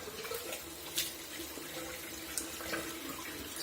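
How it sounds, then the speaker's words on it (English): Tap water runs steadily into a bathroom sink during a wet shave, with a couple of brief splashes as water is thrown onto the face, close and moderately loud. "Let me kind of throw a little water back on my face."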